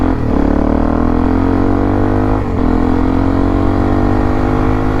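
A supermoto motorcycle engine revs toward full throttle in a loud, continuous drone that climbs gently in pitch, with a brief dip about halfway through before it pulls up again.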